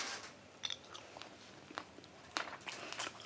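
Crunchy bites and chewing on a fried fish kebab, a series of close, crisp crunches and wet chews spaced irregularly over quiet background.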